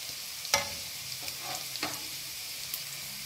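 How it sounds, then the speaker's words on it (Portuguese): Onion and garlic fry in a pan for tomato sauce, with a soft steady sizzle and a few sharp clinks and scrapes as the mixture is stirred; no talking. "aqui eu tô fritando a cebola e o alho"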